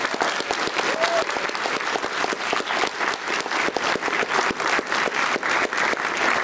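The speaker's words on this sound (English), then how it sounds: "so can I get a big round of applause," Sustained applause from a crowd at a PAX Australia gaming expo panel, steady dense clapping filling the room for several seconds, loud and close, with no talk over it.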